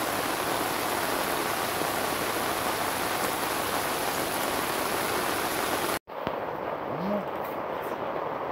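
Heavy rain pours steadily at a fishing spot during a thunderstorm, a dense close hiss that cuts off abruptly near the end, after which a quieter outdoor scene follows with faint sounds.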